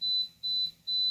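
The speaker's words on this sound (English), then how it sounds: "So the beep indicates that it's done." An AICOOK waffle maker gives three short, high-pitched electronic beeps in an even rhythm, signalling the waffle is done, each followed by a brief pause, over a faint low hum.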